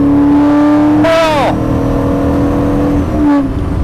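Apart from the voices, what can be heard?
Maserati Ghibli 4.9 liter V8 engine revving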